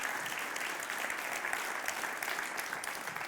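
Church congregation applauding together, a steady dense wash of clapping hands sustained evenly throughout without a break.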